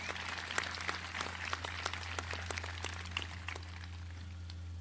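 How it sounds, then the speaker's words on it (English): Audience at a career center senior celebration gives scattered, moderately quiet applause, with individual claps audible over a steady low hum in the hall. "Let's give them a round of applause for being with us tonight."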